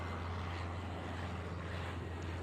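A jet airliner in the airport-management game Airport Madness rolls down the runway on takeoff, a steady, continuous engine roar with a strong low hum holding evenly throughout, no voices over it.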